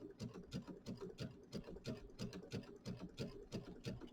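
A sewing machine zigzag-stitches into the corner of a small holiday mini quilt, its needle thumping in a quick, even rhythm at close range.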